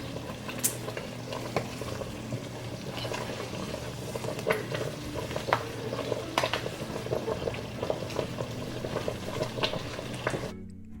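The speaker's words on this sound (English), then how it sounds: "Keep stirring." Steady bubbling and sizzling from a pot of jam, with occasional scraping clinks as a spoon stirs through the thick simmering liquid, no voices.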